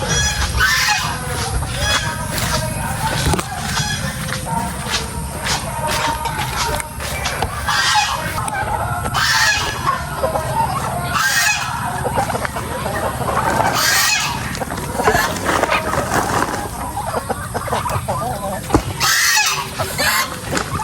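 A flock of farm chickens clucking and squawking close by while waiting to be fed, with sharp, honk-like calls rising now and then over a busy, continuous backdrop.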